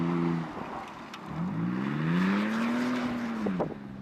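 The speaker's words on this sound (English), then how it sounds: "we'll give two-wheel drive a shot and just get some little drifty angles going" A Toyota 4Runner TRD Pro in two-wheel drive slides through drifting angles, its engine rising and falling in a sustained rev with a whirring drone and some loose rattling, heard from moderately close without speech.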